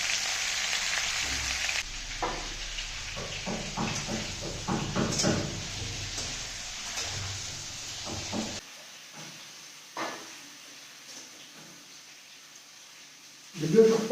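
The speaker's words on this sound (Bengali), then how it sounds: "আলুটা ভাজা হয়ে গেছে, এখন কুমড়োগুলো ভেজে দেবো।" Pumpkin pieces fry in oil with a close, hissing sizzle and scattered stirring clatter, the sizzle fading lower in the second half with a few soft knocks.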